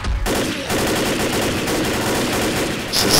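Left 4 Dead gunfire: a sustained burst of rapid shots forms a dense, continuous roar after a brief pause at the start, loud and close, with a short break near the end before firing resumes, no speech.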